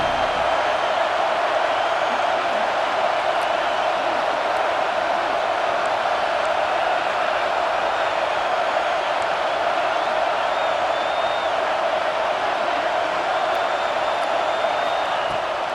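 A football stadium crowd roars steadily on a big third down in an Oklahoma State game, a dense, continuous wall of cheering that holds at full volume throughout.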